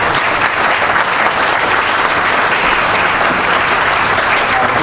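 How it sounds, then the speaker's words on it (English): Loud, continuous applause from an audience at an energy and infrastructure innovation event, thanking the evening's speakers; dense clapping holds steady and full for the whole stretch without any talk. "I wanted to do a round of applause to thank our speakers tonight."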